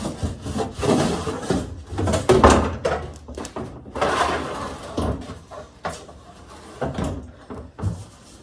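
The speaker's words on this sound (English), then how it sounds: "And I'll take this plastic cover off and just get it out of the way." A plastic cover is worked loose and pulled free inside a Factory Five Cobra Mustang kit car, giving close scraping, rubbing and knocking bursts in uneven clusters with short pauses between.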